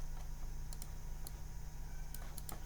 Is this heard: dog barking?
no